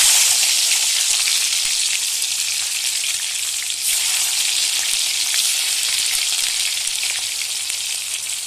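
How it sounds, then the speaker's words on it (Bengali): Chopped tomato sizzles loudly in hot oil for a crab curry, a dense, steady frying hiss that holds throughout with no talking. "তেলটা গরম হয়ে গেছে, এবার দিয়ে দেবো টমেটো কুচি"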